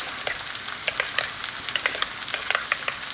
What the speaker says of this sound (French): Donc là, je fais correctement dorer les oignons.